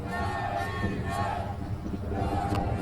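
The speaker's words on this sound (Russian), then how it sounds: "Ну и болельщики снова оживились, снова гонят свою команду вперед" Bandy supporters in the stands at a Stroitel Syktyvkar versus Start Nizhny Novgorod match chant and roar in a steady, massed wall of crowd noise, with a commentator's voice over it.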